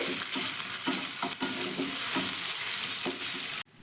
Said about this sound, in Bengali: এবার আদা রসুনটাকে কিন্তু প্রথমে আমি ভেজে নেব যতক্ষণ না আদা রসুনের কাঁচা গন্ধটা যাচ্ছে